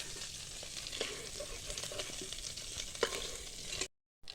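Black and white cumin seeds frying in hot oil make a soft, steady sizzle with a few light crackles and pops. It is faint and close, and it cuts out abruptly near the end.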